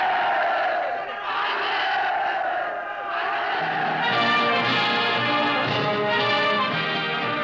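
A large crowd of citizens cheering and shouting for the military revolution leaders, a loud continuous roar with massed voices swelling toward the end.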